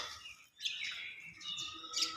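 Several birds chirp and tweet in overlapping high calls, fairly faint and continuous, with no talking.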